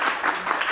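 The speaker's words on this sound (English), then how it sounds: "We can give her a clap." An audience at a panel on transmasculine football claps steadily and fairly loudly through a very brief moment, with no voices heard.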